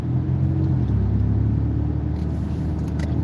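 A car accelerates through city traffic, its steady engine rumble and road noise loud and close throughout, with no talk.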